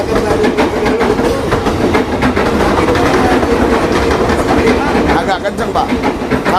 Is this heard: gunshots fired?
no